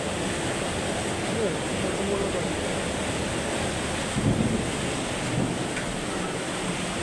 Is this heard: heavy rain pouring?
yes